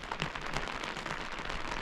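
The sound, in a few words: rain falling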